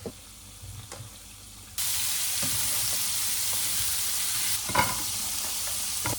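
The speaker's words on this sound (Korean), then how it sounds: "여기다가 이제 아까 잘라놨던 햄이랑 당근 볶고 계란도 붙일 거예요." Ham and carrots stir-fry in a hot pan. A loud, continuous sizzle starts abruptly and holds steady, with occasional scraping strokes from stirring close by.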